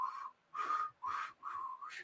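A person whistles four short rising-and-falling tones with brief pauses between them, clear and close, with no other sounds.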